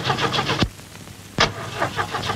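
A car engine cranks with a churning starter rhythm, broken by two sharp knocks, then sputters and turns over again in short uneven bursts.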